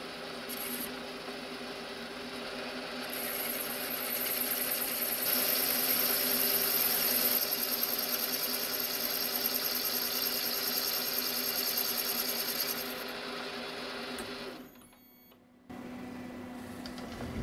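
A carbide tool takes a light 0.2 mm cut on a rotary table on a milling machine, a steady close whirring drone of spindle and cutting that holds for about thirteen seconds, then drops away abruptly before the motor hum resumes.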